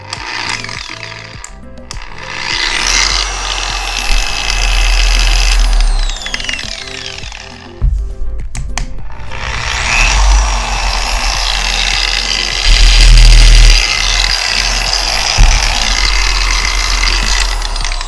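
An Adam's Swirl Killer dual-action car polisher runs loud and close with a steady whirring motor drone and a low buzzing vibration, briefly stopping midway before spinning back up and running on continuously.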